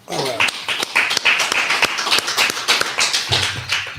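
Crowd clapping in a classroom-style gathering, a dense run of sharp, fairly loud claps with some voices mixed in throughout.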